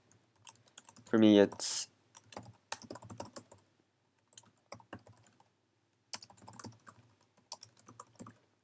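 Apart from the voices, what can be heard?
typing on a computer keyboard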